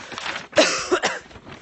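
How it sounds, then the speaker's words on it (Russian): A woman gives a couple of short, close coughs, sharp and breathy. "Видите, кашель прорывается."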